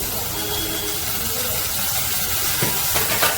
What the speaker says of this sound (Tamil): ஒரு மீடியம் சைஸ் தக்காளிங்க போட்டுருக்கேன், வதக்கிக்கிறேன்